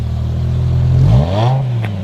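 A 2007 BMW M6 revs its sporty exhaust up close, a deep steady idle that climbs in a quick rising rev and then drops back to a throaty rumble.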